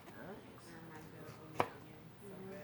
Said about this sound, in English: I always score my onion down to about the depth of the blade itself, of your chef's knife